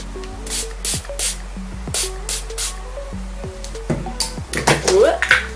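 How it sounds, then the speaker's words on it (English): Several short hissing bursts of makeup setting spray onto a brush sound close by, spaced irregularly, over a background of music with a faint tonal melody. "I'm going to go in with this Pixie spray and I'm going to spray my brush."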